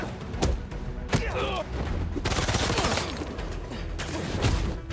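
Rapid bursts of gunfire from the Spider-Man 2 video game crackle through a busy, dense game mix, with sharp shots near the start and sustained firing throughout, under speech.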